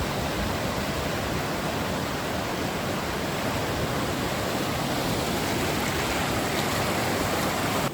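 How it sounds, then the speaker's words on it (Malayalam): Water from the Kallar tunnel, bored through rock, crashing down at Mannakudi in Idukki, a loud continuous roaring rush that stays steady and close throughout. "കല്ലാറിൽ നിന്ന് വെള്ളമാണ് ഈ ഒരു മന്നാക്കുടി എന്ന സ്ഥലത്ത് വന്ന് വീഴുന്നത്"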